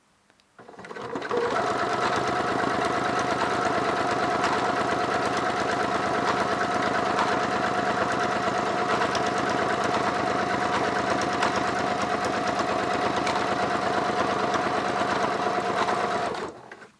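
A sewing machine fitted with twin needles stitches a hem in one continuous, rapid, even whir lasting about fifteen seconds, loud and close, starting and stopping abruptly.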